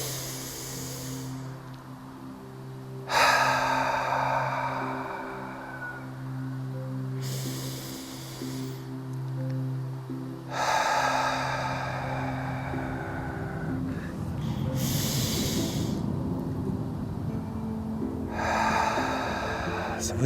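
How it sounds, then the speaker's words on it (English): Slow, deep breaths during a guided meditation: three long airy inhales and exhales, each lasting a few seconds, rise and fade in a steady rhythm over a soft low background hum. "Let's take 3 deep breaths."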